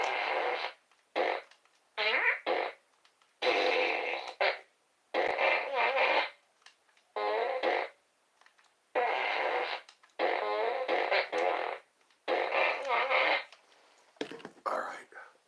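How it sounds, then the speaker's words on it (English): Rapid bursts of fart sound effects strung together as a kind of music, each burst a second or so long with short silent gaps, loud and close, with no talking. "Fart music."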